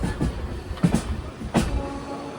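Ernakulam-Bengaluru Express sleeper train running past Ernakulam Town station without stopping, a steady low rumble with a few brief clatters and knocks, heard from on board, no talking.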